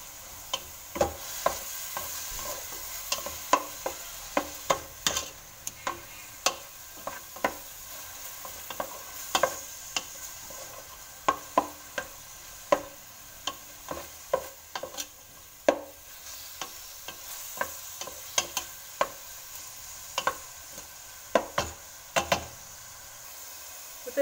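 Diced tomatoes and onion sizzle gently in a pan while a spoon stirs them, leaving repeated sharp scraping clicks at an uneven rhythm over a soft steady frying bed, close up and alone with no voices.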